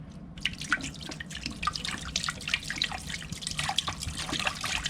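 Water pouring from a jug into a canning pot, a steady splashing trickle with scattered drips running close and fairly loud throughout, with no talk.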